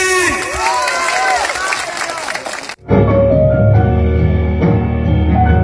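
Supporters at an Indonesian political rally for presidential candidate Ganjar Pranowo cheer and clap loudly with voices in the mix, then the sound cuts abruptly to music.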